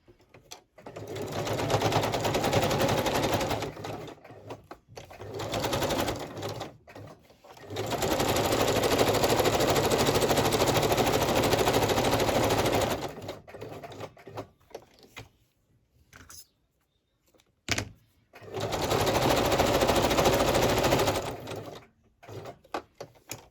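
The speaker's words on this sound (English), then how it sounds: "let's stitch everything and then see what I've come up with" A sewing machine runs a zigzag stitch in several long, steady bursts of fast mechanical whirring, with quiet pauses between runs. The sound is close and clear.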